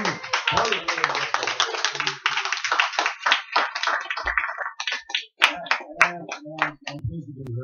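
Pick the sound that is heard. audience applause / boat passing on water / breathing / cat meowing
audience applause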